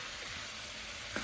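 Snails sizzle steadily in hot frying oil, a constant dense crackle up close with a faint clink near the end and no voices.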